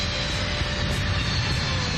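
C-5 transport aircraft jet engines during landing, a dense loud steady roar with a thin whine running through it, heard close from inside the aircraft.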